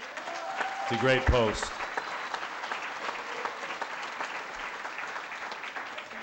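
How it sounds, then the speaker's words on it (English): Audience applause at a farewell rock show, a steady wash of many hands clapping that continues throughout, with a brief voice and a short cheer near the start. "Round of applause, everybody"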